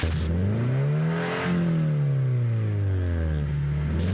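A Subaru BRZ engine with a fault revs up and down repeatedly, a rising and falling mid-pitched roar heard close and continuous with no talking.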